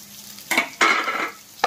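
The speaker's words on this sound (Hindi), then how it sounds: "अच्छे से मिक्स कर लेते हैं आलू को।" Boiled potatoes with turmeric and salt are mixed into frying onions in a pan for a potato bharta, giving two short bursts of scraping and sizzling stirs close by over a quiet background.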